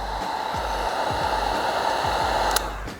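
A heat gun warming vinyl wrap film on the front outer grille of a 2021–2024 GMC Yukon, a steady close blowing hiss with a faint tonal whine, running continuously before cutting off near the end.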